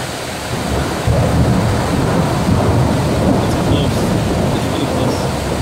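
A thunderstorm with steady, loud rain and deep rolling thunder that swells and rumbles continuously throughout, close and enveloping, with no talk.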